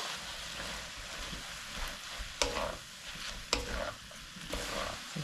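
Namul with onion, garlic and perilla oil stir-fried in a pan, a soft steady sizzle with occasional sharp scraping stirs of a utensil, fairly quiet and close.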